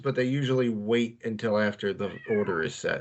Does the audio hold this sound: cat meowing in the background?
yes